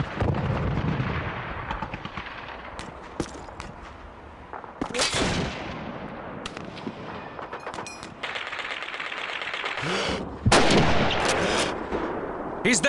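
Call of Duty 2 World War II battle at City Hall with sniper rifle fire: sharp single rifle cracks and heavier blasts ring out at intervals over constant rumbling combat, with distant shots scattered between them.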